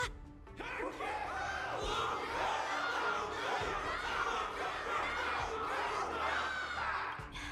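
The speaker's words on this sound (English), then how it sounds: "Everyone's cheering for you, Luca." A distant video game crowd in Honkai: Star Rail roars and cheers continuously, a blended mass of voices and shouts, faint and steady throughout.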